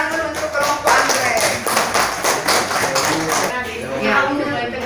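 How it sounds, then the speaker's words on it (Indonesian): Students in a junior high science classroom clap for a group, a burst of rhythmic applause from many hands that continues steadily, with a teacher's voice speaking over it. "Oke, tepuk tangan dulu"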